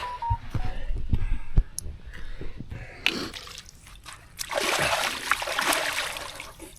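Water splashes as someone washes in a river on a hot day, with scattered drips and trickles at first, then steady, louder sloshing and splattering close by.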